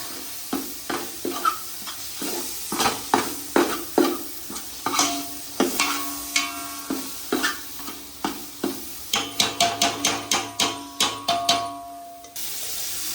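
Mutton cooking in ghee is stirred in a pan, with a steady sizzle under rhythmic, close scraping strokes, about two a second, that quicken toward the end.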